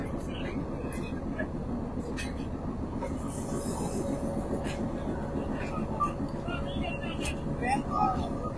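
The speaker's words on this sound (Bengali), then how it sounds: "সেই ট্রেনগুলো এই মুহূর্তে সিলেট থেকে ছেড়ে যাচ্ছে" Passenger trains pulling out of Sylhet station, a steady loud rumble of wheels and cars with occasional squeals, heard under voices and station bustle.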